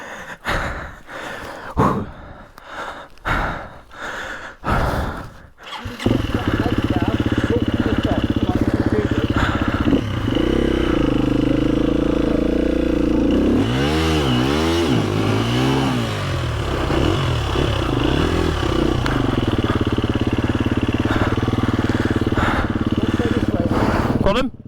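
Off-road motorcycle at a riding school, a loud sustained engine drone with a rising and falling rev in the middle, preceded by heavy breathing and gasps from a rider.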